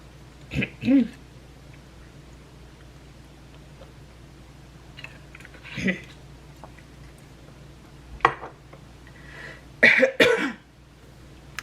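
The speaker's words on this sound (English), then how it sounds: "That's how weird my cough could be." A handful of separate coughs and throat-clearing bursts, close and fairly loud, spaced apart with quiet gaps between them.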